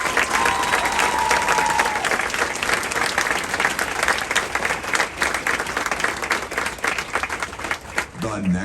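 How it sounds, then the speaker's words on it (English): Large audience at a San Diego military recruit graduation ceremony giving sustained, loud applause for company staff, dense steady clapping filling the space for several seconds. "please join me in a round of applause for the company staff of Company C"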